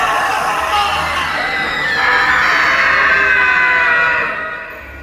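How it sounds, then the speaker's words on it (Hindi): Several people scream and yell in pain inside a jail room, a sustained overlapping chorus of anguished cries that holds loud for about four seconds before fading. "शुरू हुई कमरे में लोगों के दर्द से चीखने की आवाजें"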